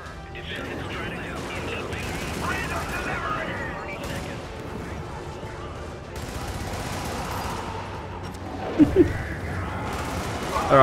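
Machine gun fire and other weapon bursts rattle through a firefight in the co-op shooter Helldivers, continuous and busy, with a couple of sharp impacts near the end.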